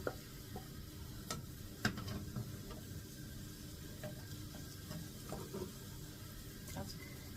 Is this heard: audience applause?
no